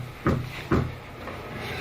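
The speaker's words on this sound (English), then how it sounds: "been someone knocking at my front door for the last 10 minutes or so, and they haven't stopped knocking" Knocking on a front door: two sharp thuds about half a second apart, fairly close and loud over a low background hum, with no voices.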